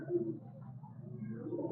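An old pigeon gives soft, low cooing, a faint continuous murmur close by with no other sounds.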